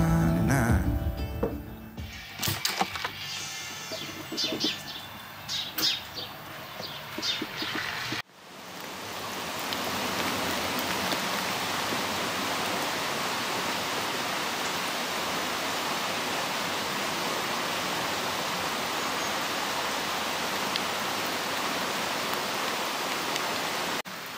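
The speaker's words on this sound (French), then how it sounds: "beaucoup d'eau, c'est très humide, il pleut" Steady rain falls on a wet, cold winter morning walk in the Monts d'Arrée, Finistère, after overnight snow, a continuous dense hiss that becomes loud and even after some brief handling noise at the start.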